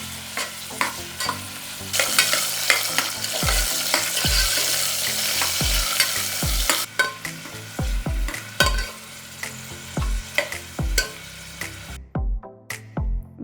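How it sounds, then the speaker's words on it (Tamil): Sliced onions sauté in oil with cloves, star anise and bay leaf for vegetable brinji rice, a soft sizzle broken by repeated close spoon scrapes and clinks against the pan as they are stirred. "ஒரு அன்னாச்சி பூ, ஒரு பிரிஞ்சி இலை, நறுக்குன 2 பெரிய வெங்காயம் இதை சேர்த்து லைட்டாக வதக்கி விட்டுருங்க"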